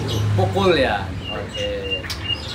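Oriental magpie-robin (murai batu) song, a few quick rising and falling whistled phrases near and clear, with someone talking briefly over the birdsong.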